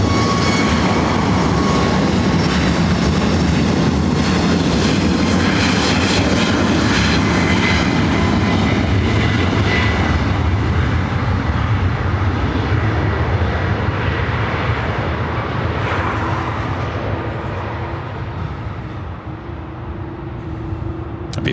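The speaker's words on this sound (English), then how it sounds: "That's the 737 MAX 8. Now rolls down 24 right." A Southwest Airlines Boeing 737 MAX 8 lands on runway 24 right at LAX, giving a loud, close jet roar with whining engine tones that slowly fades and lowers as it rolls out, with no talking.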